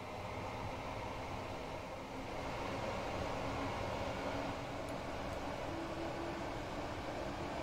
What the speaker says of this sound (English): It's a pretty nice sounding train.